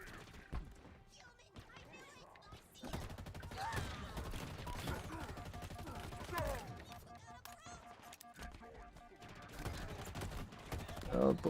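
Auto rifle gunfire in the Halo Infinite campaign rattles in repeated rapid bursts over several seconds, with impacts and thuds mixed in and a player talking throughout.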